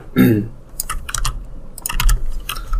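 Computer keyboard typing while HTML code is entered, a close run of quick, irregular key clacks in short bursts, with a brief soft voice sound at the start.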